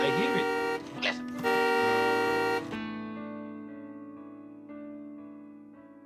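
A car horn honks in sustained, buzzy tones that ring out and slowly fade, with a voice briefly heard near the start.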